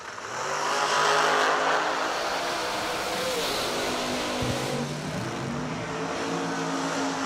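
A Diamond Chassis dragster and its rival launch off the line at a drag race at Kil-Kare, with a loud, close engine roar whose pitch climbs in sweeping rises and then holds at a sustained howl.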